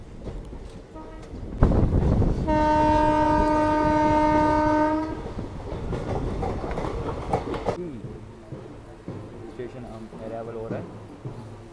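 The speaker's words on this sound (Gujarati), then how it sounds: "આપણી જે ટ્રેન છે છે તે જમણી સાઈડ પોરબંદરવાળી લાઈન ઉપર આગળ વધી રહી છે" The 09561 Rajkot–Porbandar local passenger train rolls along the line on its inaugural run, sounding a loud sustained horn blast before the wheel rumble and clatter continue, with people talking nearby.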